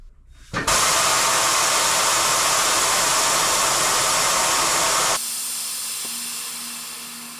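Air suspension on a Prevost bus lets out a loud, steady rush of compressed air as the tag axle lifts. The hiss runs for about five seconds, then drops to a softer, fading bleed with a faint low tone.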